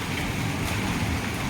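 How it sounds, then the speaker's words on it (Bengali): Rain falls in big drops, a dense, steady patter heard close by for a brief moment with no voices. "এই যে টপ টপ টপ টপ করে পড়ছে, বেশ বড় বড়ই ফোঁটা পড়ছে।"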